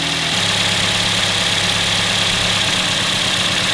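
A four-cylinder car engine idles roughly with one ignition coil unplugged, a loud steady drone whose low rhythm turns uneven and pulsing toward the end, with no talking.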